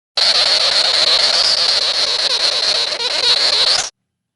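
A harsh, buzzing, static-like crabbing chatter from a sugar glider runs continuously for several seconds at close range, then cuts off abruptly.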